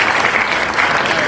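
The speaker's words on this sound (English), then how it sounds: "Just so you know, Randy, no one can hear you when the clapping's going on." Dense, continuous applause from an audience at a live-streamed celebration giveaway, loud and close, steady clapping throughout the short stretch.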